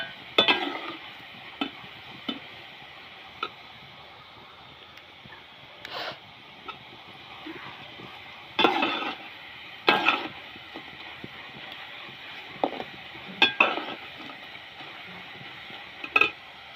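Jackfruit chips deep-frying in coconut oil, a quiet steady bubbling sizzle broken by several sharp scraping clatters as a slotted spoon stirs and knocks against the metal pan.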